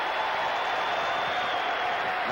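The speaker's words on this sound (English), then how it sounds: "Here comes the crowd." A packed arena crowd roars during a 1980 college basketball game between Syracuse and Purdue, a steady dense wash of cheering that holds evenly through the moment.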